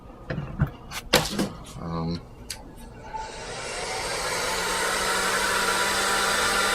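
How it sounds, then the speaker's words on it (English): A steady, loud rush of blowing air starts after a few seconds of clattering and handling noises, then holds constant to the end. "I've got a heat gun here, which is basically just a industrial hair dryer that can melt things"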